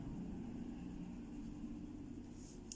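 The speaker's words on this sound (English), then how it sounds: "If you can hear that traffic going past, that was pretty loud." Traffic passes outside, heard indoors as a low, steady rumble of a passing vehicle that stays faint and distant, with no voices over it.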